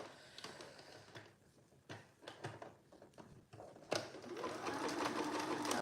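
A sewing machine top stitches a jersey neckband on a sweatshirt, starting in short quiet runs and handling noises before settling into a steady, continuous whirring stitch near the end, close and alone.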